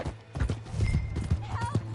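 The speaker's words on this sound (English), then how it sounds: "Hey, that's my horse! Just borrowing it." Horse hooves clip-clop at a steady trot in a video game, close and fairly loud, with a brief whinny-like call near the end and other game sounds under them.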